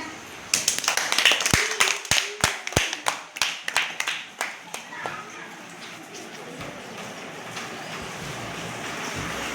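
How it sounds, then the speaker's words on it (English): Group of children clapping their hands in a classroom, a quick run of sharp, fairly close claps that begins in near unison, loosens into scattered taps, then fades into a murmur of talk. "clap your hands"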